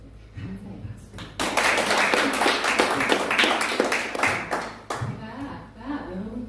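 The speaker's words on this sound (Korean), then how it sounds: "감사의 박수" A room of people breaks into warm clapping that rises fast and runs for a few seconds before it thins out. Talk is heard before and after the applause.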